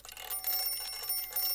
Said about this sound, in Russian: давайте, наверное, будильник